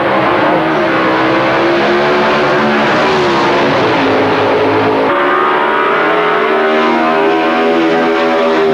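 Drag racing cars launching at a Super Stock event, a Holden and a Camaro roaring loud and close with thick layered engine noise that barely drops throughout, revs shifting partway through.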